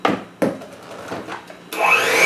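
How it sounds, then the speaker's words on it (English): Scraping down the sides of a bowl of cookie dough, heard as a few close, dry scraping strokes. An electric mixer starts whirring loudly at the end. "Then I'm going to scrape the sides down."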